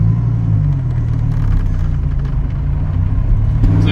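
A 2014 Dodge Viper's engine rumbles steadily from inside the moving car, a loud, low drone with a faint rising note toward the end and no talking.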